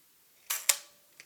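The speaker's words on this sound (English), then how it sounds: "if I now fire the shutter" A Konica C35 AF compact film camera fires its shutter with flash: two quick sharp mechanical clicks close together, followed by a faint small tick, in a quiet room.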